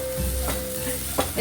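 Oil sizzles steadily in a pan as food fries for a home-cooked Sunday biryani, with a couple of brief stirring scrapes rising above the continuous hiss; no one speaks.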